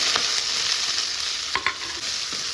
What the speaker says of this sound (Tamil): அந்த வெங்காயத்தை போட்டு தாளிச்சிடலாம்